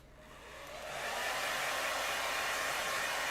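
A hair dryer switches on and ramps up within the first second, then blows with a loud, steady airy roar close by while drying work on a prop gauntlet.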